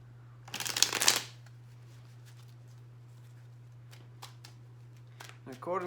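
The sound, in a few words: shuffling tarot cards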